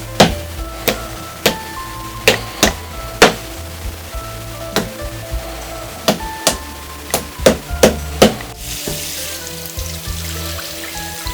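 Nails hammered into the welt of a handmade Oxford shoe on a last, about a dozen sharp, close metallic taps at an irregular pace, a few in quick bursts, then a soft hiss.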